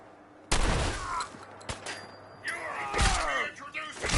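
Gunfire in the video game Fallout 4, a sharp loud shot followed by several more blasts and ricocheting echoes, with a voice shouting over the action.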